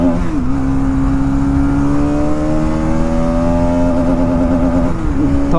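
A Bajaj Pulsar NS200 motorcycle is ridden in third gear at about 90 km/h, its engine droning loud and steady with a rising pitch, plus a brief dip near the start and end.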